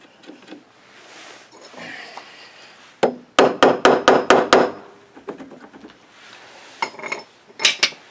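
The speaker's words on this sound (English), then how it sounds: "hit it with a hammer a few times just to loosen it up" A hammer strikes the rear wiper arm nut on a 2006 Jeep Grand Cherokee WK. Six sharp metallic blows land in a quick steady run, with a few more knocks later amid light rustling and handling noise.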